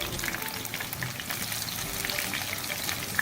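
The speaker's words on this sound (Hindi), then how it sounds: "चिकन हमारी फ्राई हो चुकी है दोनों तरफ से गोल्डन ब्राउन।" Spicy masala fried chicken in hot oil, a soft, steady crackling sizzle with scattered pops, close and fairly quiet throughout.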